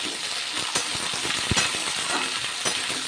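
Pumpkin pieces, radish and other vegetables, including cauliflower stems, sizzle steadily as they are stirred and fried in a pan, with a continuous close hiss and occasional scraping clinks of the spatula.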